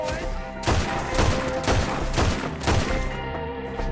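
Shootout gunfire in Red Dead Redemption 2, with a series of loud, close shots cracking out at roughly half-second intervals over a dense, steady wash of game ambience.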